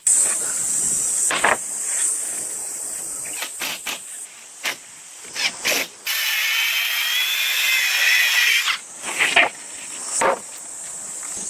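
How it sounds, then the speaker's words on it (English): A power drill drives screws into long wooden roof planks on a mountain cabin build. The motor whines in several short bursts and one longer sustained run, close and fairly loud over a steady outdoor hiss. "Long wooden planks are being arranged on the roof boards according to the measurements and then secured firmly with screws using a drill"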